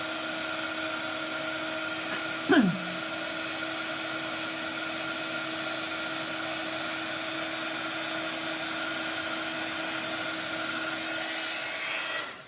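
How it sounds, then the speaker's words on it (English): A heat gun blows hot air over distress oxide ink in a steady, even whine that persists for the whole stretch, with one brief squeaky chirp early on. "just keep moving your heat gun out of its reach and you will be fine"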